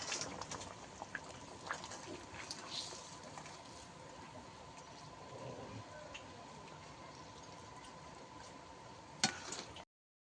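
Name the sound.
fish curry gravy boiling in pot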